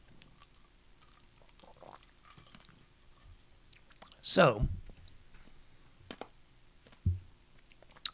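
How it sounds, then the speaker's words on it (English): Ice crunched in the mouth: a single loud, close crunch in the middle, then a softer bite later, with a brief spoken word and quiet clicks around it. "I have this ridiculously bad habit now of crunching ice on the show"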